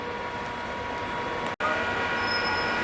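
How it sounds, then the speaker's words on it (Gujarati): Ahmedabad to Vadodara MEMU local passenger train running, a steady broadband rumble of wheels and carriage noise heard from inside, with a brief dropout and a faint high squeal near the end. "Ahmedabad Vadodara MEMU train local train છે"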